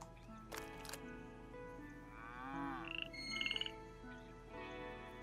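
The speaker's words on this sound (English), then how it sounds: "Likey, with her wonderful physique, had caught the frog that went squeak" Cartoonish frog croaks and squeaks in a game scene, a few short bouncy calls and warbling tones over soft background music, moderately clear and close.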